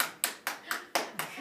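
Hands clap for Tinkerbell, about seven sharp, quiet claps in a steady, slightly uneven rhythm close to the listener.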